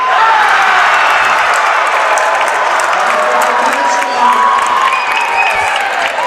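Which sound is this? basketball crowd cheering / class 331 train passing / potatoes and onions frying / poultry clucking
basketball crowd cheering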